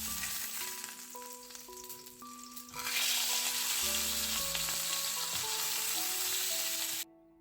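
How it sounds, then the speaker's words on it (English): A thin steak, about 1 cm thick, drops into a hot pan and sears with a loud, continuous sizzle that bursts in after a quieter start, under light background music. "Get that pan hot for steak."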